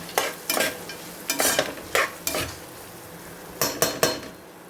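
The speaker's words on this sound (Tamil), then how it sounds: "ஆட் பண்ணிவிட்டு இதையும் நம்ம வதக்கிடலாம்." Ground masala paste for mushroom biryani being stirred and sautéed in a pan, with a soft sizzle under sharp, irregular scrapes and clinks of a spoon against the vessel, close and with no talk.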